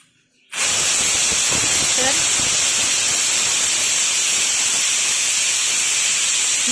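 A loud, steady rush of steam hiss from a pressure cooker whistle cooking rice bursts in after a brief quiet moment and keeps blasting without pause, close and forceful.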